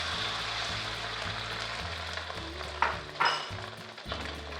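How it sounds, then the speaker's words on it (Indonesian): An egg sizzles and crackles loudly in hot vegetable oil, a dense continuous fry with a couple of brief stirring scrapes near the end. "Nah, jika sudah panas, kita masukkan telur."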